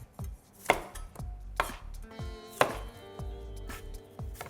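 A knife chops through cucumber on a board, slicing it into rounds: a few sharp, uneven thuds with crisp cutting sounds, close up and with no talking.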